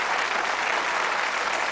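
Studio audience applause on the Bullseye darts game show, a dense, even burst of clapping lasting under two seconds with no speech over it.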